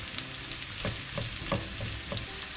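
Chopped onions frying in a pan for chana dal lauki, a steady soft sizzle and crackle with occasional stirring clinks and scrapes, close and fairly quiet, no talking.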